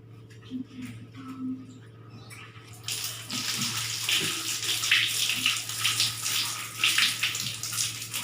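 Hands washed with soap under a running tap in a clinical midwifery setting, a few faint knocks and shuffles first, then steady splashing water flowing close and continuous from about three seconds to the end.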